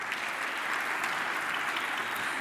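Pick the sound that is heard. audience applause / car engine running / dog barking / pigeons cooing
audience applause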